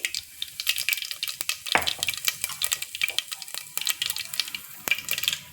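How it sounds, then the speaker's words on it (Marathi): Cumin seeds crackle and pop in hot oil in a pan while misal is prepared, a close, busy stream of sharp irregular spattering clicks over a soft sizzle, with no talking. "आता आपण जिरे टाकूया जिरे पण आपली छान तरतरत आहे"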